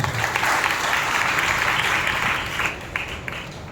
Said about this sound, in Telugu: బిగ్గరగా చప్పట్లు కొట్టి ప్రభువును మహిమపరచు